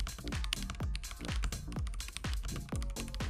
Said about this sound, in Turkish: Bu klavye red switch olmasına rağmen tok bir sesi var ve eminim ki bu sesi çok seveceksiniz